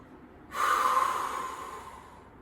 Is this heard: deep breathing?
yes